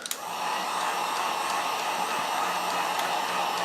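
A hair dryer is switched on close by to dry watercolor paint, giving a steady, loud airy whoosh that holds constant after a couple of brief clicks at the start.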